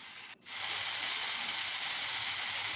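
Pumpkin leaves fry in hot oil in a pan, a loud, steady hiss and sizzle that briefly drops out near the start and then holds strong, close up with no talk.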